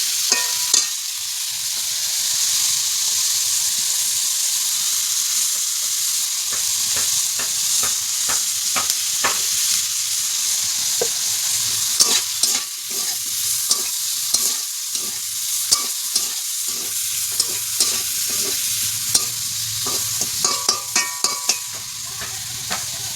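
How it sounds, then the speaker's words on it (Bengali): Sliced bitter gourd (karela) sizzling loudly in hot oil in a pan, with sharp irregular scrapes and taps of a spatula stirring it, the clatter growing busier toward the end and no voices. "তো চলো ভেজে নিই করলাটা"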